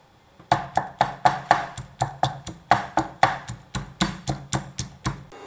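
Rhythmic pounding of chilies in a stone mortar with a pestle, steady thuds with sharp clacks roughly every third of a second, close and fairly loud, no voices.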